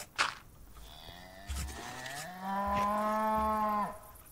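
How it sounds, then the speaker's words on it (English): A cow in the Minecraft video game gives a loud, drawn-out moo lasting a couple of seconds, close and clear, preceded by a few short clicks and game noises. "Loud cow."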